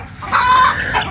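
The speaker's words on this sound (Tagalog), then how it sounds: "Ang ingay-ingay namang mga manok na to." Chickens in a rural Pampanga province setting, one close loud drawn-out cluck or crow call rising and holding briefly before fading, no talking.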